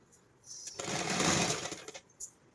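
A sewing machine runs in one steady burst of about a second and a half, stitching pant or palazzo fabric with buckram, close and fairly quiet, bracketed by brief light clicks.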